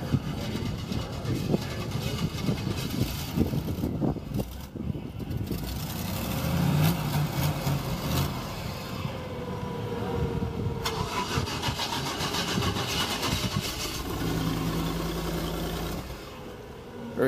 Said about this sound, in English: they're starting up the monster truck